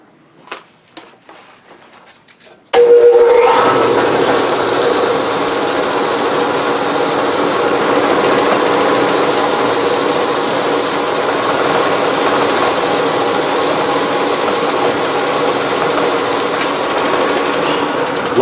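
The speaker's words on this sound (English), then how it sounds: "let's spin that up and give it a quick sand" Sanding a large maple vase spinning on a wood lathe gives a steady, loud abrasive rushing hiss that runs without a break. A few quiet knocks come first, then the lathe spins up and the sanding starts.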